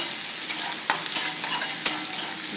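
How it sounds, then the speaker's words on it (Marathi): Onion, green chili and curry leaves fry in a tempering with urad dal for upma, giving a steady close-up sizzle broken by several sharp spoon scrapes and stirring clinks, with no talking. "खूप जास्त करपायचं नाही आहे, कांदा गुलाबी झाला की पुढचं प्रोसेस करायची आहे"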